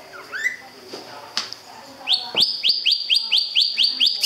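Caged birds in Vietnam chirp close by, scattered calls at first, then a quick run of bright, evenly repeated chirps.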